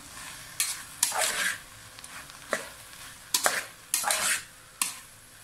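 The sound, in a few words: frying okra with ground pickle masala in a pan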